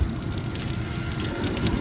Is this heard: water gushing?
yes